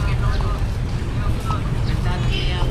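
Busy street traffic crowded with many motorcycles near a market area in Palo, Leyte, a dense continuous engine rumble throughout, with voices audible among the noise.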